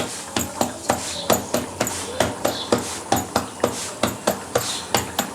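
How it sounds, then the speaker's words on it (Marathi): Hands patting bhakri flatbread dough into a round, a steady series of sharp, fairly loud slaps repeating about every half second, close by, with no talk. "अशी थापून घ्यायची म्हणजे आपल्याला कुठे जाड पातळ हाताला लागते"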